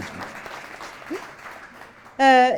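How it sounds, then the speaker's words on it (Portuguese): An audience applauds at a talk, giving a low, steady patter of clapping that runs for about two seconds before a brief, louder tonal sound cuts in. "Tem um aplauso aqui."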